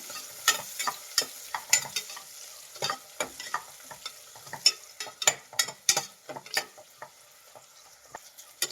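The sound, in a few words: sliced onions frying in a pan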